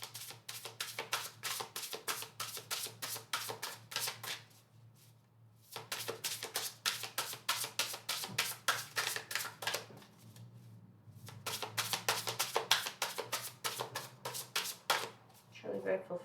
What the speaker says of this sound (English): I feel like I need to do one more shuffle.